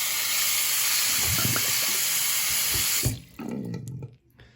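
Liquid used to soak rusty parts for 24 hours, beer or cola, is poured out down a drain in a steady, loud hissing stream that stops suddenly, followed by faint trickling and drips.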